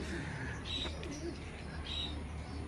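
Racing pigeon arriving at its loft after a 51.99 km training flight in Macalaya, Castilla, Sorsogon, with a couple of soft coos and chirps over steady outdoor background noise.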